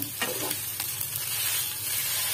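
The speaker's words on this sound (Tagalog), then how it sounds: "magsasangag ako" Leftover rice for sinangag, Filipino garlic fried rice, sizzles in a hot pan at breakfast, giving a steady close frying hiss with a couple of brief scraping stirs near the start.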